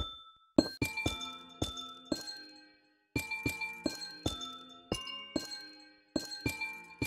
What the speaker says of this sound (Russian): Все виды блоков и сами кристаллы издают прекрасные музыкальные звуки, когда вы их ставите или ходите по ним,